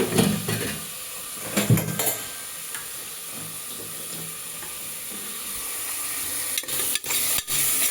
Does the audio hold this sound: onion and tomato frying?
yes